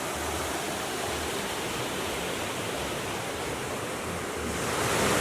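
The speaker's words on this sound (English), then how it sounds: "The river is right out the front" A river runs right in front of a glamping site in Minca, Colombia, heard as a steady, broad rushing wash of flowing water that fills the scene evenly, with no voices over it.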